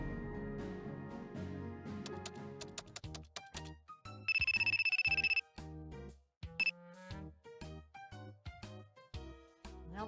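Telephone ringtone in the video game Trickcal RE:VIVE, a loud electronic ring burst in the middle of a busy musical passage with game music and effects around it.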